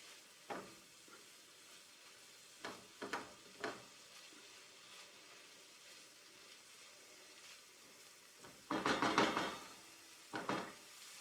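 Venison helper is stirred in a pan with a utensil, giving several short scraping, sizzling bursts separated by quiet gaps, the longest near the end, with no voices.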